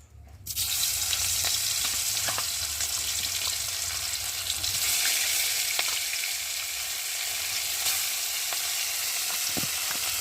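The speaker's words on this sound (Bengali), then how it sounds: "এই যে নুন হলুদ মেখে রাখা মাছগুলোকে দিয়ে একে একে ভেজে নেব" Pieces of fish rubbed with salt and turmeric fry in hot oil, a loud, steady sizzle that starts suddenly and crackles on evenly with occasional pops.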